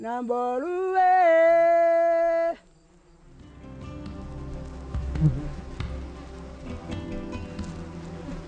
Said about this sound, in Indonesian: Suara dengung lebah yang mengancam